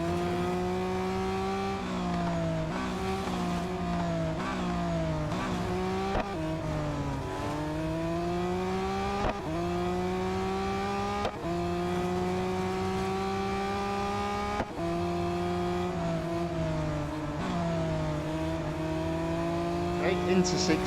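Race car engines in the Real Racing 3 mobile game scream at high revs, rising through the gears and dropping sharply at shifts again and again over a long stretch. They stay loud and close, with a voice talking now and then.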